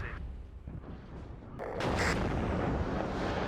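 Artillery fire in the video game WARNO, a deep rumbling boom that swells after a quieter opening and then holds as a broad roar, with no talking.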